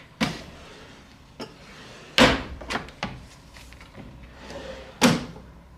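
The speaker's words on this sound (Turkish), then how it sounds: "Burada mini bar açılıyor." Several sharp knocks and thuds of a hotel suite minibar drawer being handled, spaced irregularly, fairly close and loud in a quiet room.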